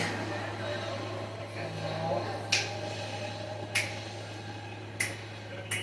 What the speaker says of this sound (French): Le claquement de doigts, ça m'étonne.